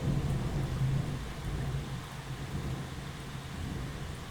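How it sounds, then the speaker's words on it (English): Steady rain falls with a low rumble of thunder rolling beneath it, a dense constant wash that eases slightly after the first second, with no voices. "Some more thunder."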